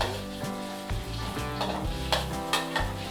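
Pork stir-frying with chili and spring onion in a pan, loud crackling sizzle with repeated spatula scrapes and stirs close up, no talking.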